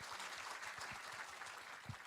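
Scattered audience clapping at a live political talk event, fairly faint and thin, a steady patter of hands with a few sharper individual claps standing out.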